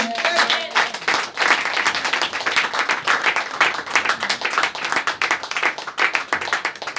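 A church congregation claps and applauds together, a dense, steady patter of many hands with some rhythmic pulses, fairly close, lasting several seconds with faint crowd voices mixed in.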